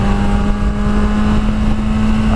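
A Kawasaki ZX10R 1000cc motorcycle engine runs loud and close with a steady, droning hum that holds a constant pitch, with no talking.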